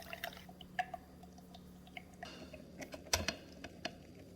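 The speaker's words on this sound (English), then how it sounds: "Now I'm going to pour it through my fine wire mesh strainer." Blended horchata rice liquid strains through a fine wire mesh strainer in a kitchen, heard as a faint, irregular trickle of drips and small ticking splashes with no talking.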